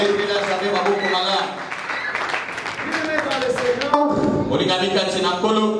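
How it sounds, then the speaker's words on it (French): A church congregation claps for the Lord during a Sunday service, a steady wash of applause mixed with voices and singing throughout. "Acclame très bien le Seigneur."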